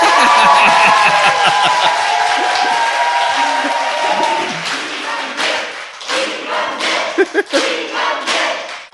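Audience applause at a political talk show, crowd clapping and cheering under an announcer's amplified voice, thinning into scattered claps and laughter toward the end.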